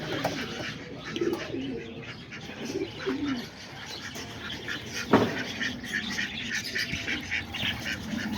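Homing and roller pigeons coo softly in low, rounded bursts outside around their coop, with scattered chirps and a sharp knock partway through, over steady outdoor background noise and no talk.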